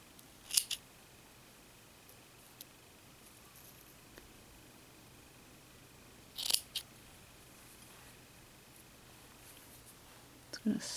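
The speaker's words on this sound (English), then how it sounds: "Just going to snip that off" Scissors snip through red crochet yarn while a poppy flower is being finished, giving a few sharp, quiet cuts spaced several seconds apart against a near-silent background.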